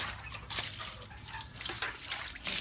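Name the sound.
water poured from a well into a vessel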